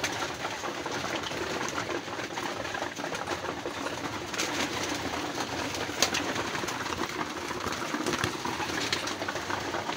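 Racing pigeons back home in their loft after a hard race from Batangas Port, a steady bed of soft, low cooing and rustling with occasional brighter calls, continuous and fairly close throughout.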